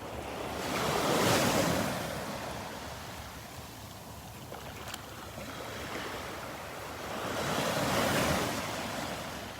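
Surf rolls in and breaks on Vanderbilt Beach in North Naples, Florida, two broad washing swells rising and fading over a steady hiss of wind, with no voices.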